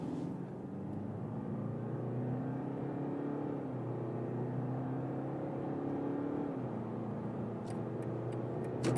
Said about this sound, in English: Let's go to the sport mode for acceleration. Here we start from 50 kilometers an hour.